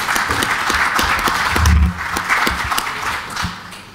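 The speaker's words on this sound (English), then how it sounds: "I have nothing to add to the applause that we heard after this brilliant presentation" An audience at an international economic forum session on trade and the WTO applauds after a presentation: sustained, moderately distant clapping from many hands, swelling slightly midway before thinning out toward the end.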